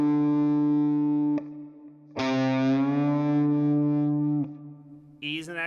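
Distorted electric guitar with effects playing pentatonic-scale notes, a held note followed by a bend from C up to D that sustains for a few seconds before a short pick scrape, with no talking.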